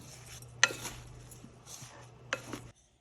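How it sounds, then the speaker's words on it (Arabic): A spoon stirs stuffing ingredients, rice with spices and oil, together in a dish, quiet and close, with a couple of sharp clinks of utensil against the bowl. "ونبتدي نقلب كل المقادير دي ببعضها كده."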